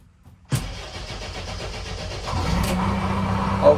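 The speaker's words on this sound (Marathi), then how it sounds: "JCB स्टार्ट करूया सगळ्यात पहिला." A JCB backhoe engine cranks and catches after a brief quiet start, then settles into a steady idle that grows slightly louder and rougher near the end.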